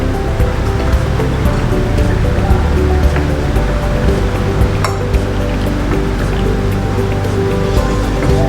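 Hot water pours from a kettle over coarse ground coffee in a V60 dripper. The stream is close and continuous, a steady splashing trickle with a few small drips and bumps.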